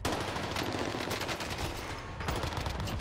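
Rapid automatic fire from an NZ-41 rifle in a Rebirth Island video game match, with sustained bursts of close, sharp shots that pause briefly and then resume.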